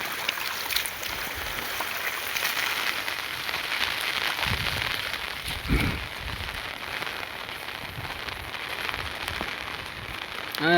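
A downpour drums steadily on open farmland where water floods the road, a continuous wash of hiss with a few low thumps and bursts standing out in the middle.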